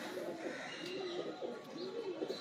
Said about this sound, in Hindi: ये कबूतर जरा भी दिखाए